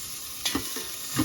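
Garlic and onion are stirred in a hot pan, a soft steady sizzle broken by a few short scraping strokes of the utensil, close and alone.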